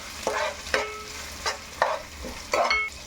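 Onion and spice paste frying with curry leaves in a pan for a Godavari fish curry, with several distinct stirring scrapes over a low sizzle, close and clear with no talking.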